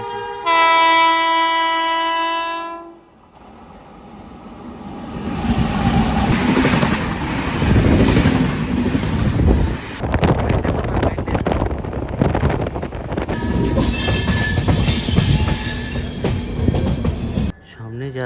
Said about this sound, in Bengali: এবার আমাদের সাথে দেখা হবে 22362 নিউ দিল্লি থেকে রাজেন্দ্রনগর টার্মিনাল অমৃত ভারত এক্সপ্রেসের সাথে